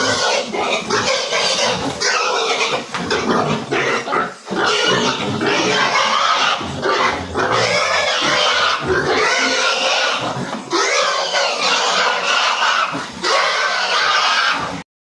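Pigs squeal and grunt loudly and continuously while being loaded, shrill frantic cries filling the whole stretch with brief dips, close by.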